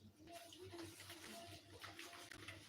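Water runs into a kitchen sink as dishes are washed, a splashing, rushing flow with clinks and shifts in intensity, fairly quiet, while someone speaks in the background.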